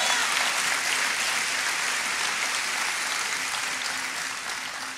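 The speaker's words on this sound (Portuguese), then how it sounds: "aplauda Jesus por isso." A church congregation claps loudly and continuously, a dense wash of applause that slowly fades toward the end.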